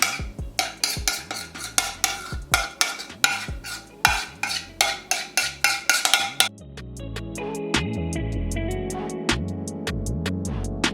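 Couscous stirred in a pot with a spoon, a quick run of rhythmic scraping strokes followed by a steadier, smoother stirring sound, close and moderately loud with no talking.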